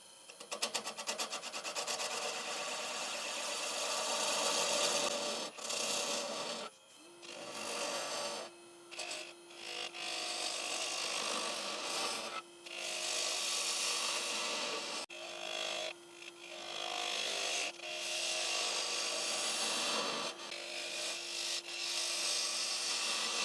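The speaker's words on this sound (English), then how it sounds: "just going to give it a shallow cut on the bottom here" A lathe tool takes a shallow cut across the bottom of a hard maple bowl, producing a scraping, rasping wood-cutting sound in repeated passes with brief pauses and a steady hum underneath.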